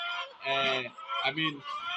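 Poultry birds in a farm pen call in a dense flock, overlapping clucks and squawks close by and fairly loud, with brief pauses between bursts.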